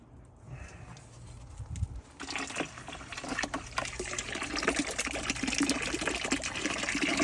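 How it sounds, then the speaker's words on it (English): Water gushes from the opened cold line of a tankless water heater, starting with a quiet trickle and a brief knock, then rising into a steady splashing rush that grows a little louder and continues, with no one speaking. "I'm going to open this cold line here."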